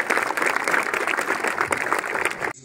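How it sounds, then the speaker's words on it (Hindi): School audience clapping at a National Youth Day gathering at a Jawahar Navodaya Vidyalaya, dense continuous applause at fairly loud level that cuts off sharply at the end. "ताली बजाएंगे।"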